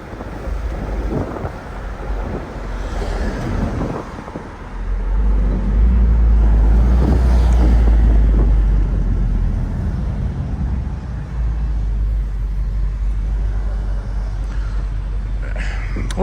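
A Jeep SRT drives along the road with a steady, heavy low rumble of engine and road noise that swells and holds from about five seconds on, with no talking.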